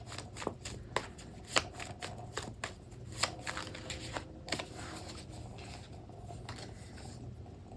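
A handmade deck of reading cards is shuffled close up, with repeated crisp riffles and soft slaps in an uneven rhythm against a quiet room hum.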